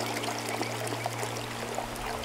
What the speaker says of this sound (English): Incline your pan and float water in and out without moving the bigger pieces of your content.